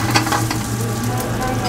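Crackling sizzle of cumin and garlic frying in hot ghee, steady and close, with light stirring noises over it.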